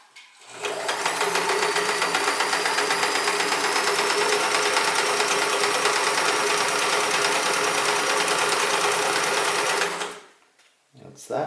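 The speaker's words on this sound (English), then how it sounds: "I think you can see the machine runs out nice and smooth" A Sears Kenmore 158 series sewing machine running, a fast, even mechanical whirring and ticking that starts abruptly, holds steady for about ten seconds close by, then stops.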